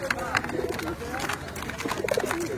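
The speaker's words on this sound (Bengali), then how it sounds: "মাশাআল্লাহ, এখানে কিছু কবুতর রয়েছে।" Pigeons coo repeatedly at a crowded pigeon market in Katakhali, Bangladesh, several soft rolling calls close by over a steady background of people talking and market bustle.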